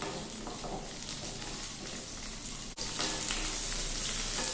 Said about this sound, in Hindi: इसी ऑयल में शिमला मिर्च भी फ्राई कर ले रहे हैं।